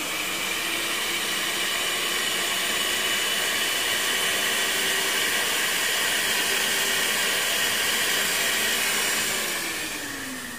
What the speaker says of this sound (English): And this is how I free the cream from the hand mixer